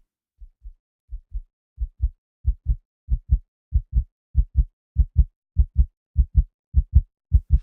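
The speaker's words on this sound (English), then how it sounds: "I used real-time parameter controls for the player's heartbeat sounds" Looping player heartbeat effect from a video game, built in Wwise: paired low thumps, lub-dub, repeating steadily and growing louder and slightly faster over several seconds, heard alone with no talk.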